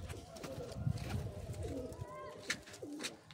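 Pigeons in a rooftop loft give several soft, low coos with a few faint chirps, fairly close, over a murmur of background noise and voices.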